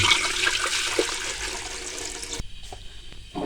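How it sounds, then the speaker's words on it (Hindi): Water pours steadily into a cooking pot, a loud rushing stream for about two and a half seconds, then it cuts off and a softer trickle continues, close by with no talk. "इसमें अब हम पानी शामिल करेंगे।"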